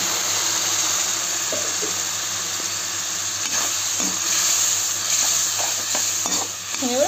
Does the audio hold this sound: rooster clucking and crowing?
no